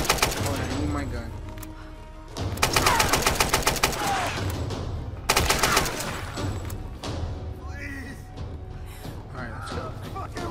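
Gunfire from the Tomb Raider video game on PS3 cracks out in rapid bursts, loud and dense against the game's music and ambience, with a player talking over the action.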